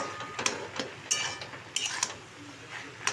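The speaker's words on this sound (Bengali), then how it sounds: "এবারে ভালো করে আমি এটাকে নাড়বো" A spatula scrapes and taps against a pan while spinach is stirred during home cooking, giving a few sharp metallic clinks spaced irregularly over soft background noise, close and moderately quiet.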